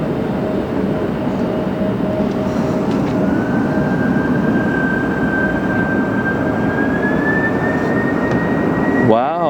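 Heavy jet aircraft at LAX departing on reduced thrust: a loud, close, continuous engine roar with a thin whine that rises slowly and holds steady throughout.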